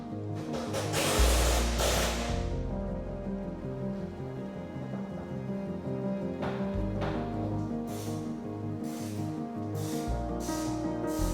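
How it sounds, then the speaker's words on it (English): A power drill whines and grinds in bursts, pitch rising and falling as it bites into a sheet-metal bracket in a Volvo 242 interior, close and fairly loud. "I'll drill out the bracket, install rivet nut inserts"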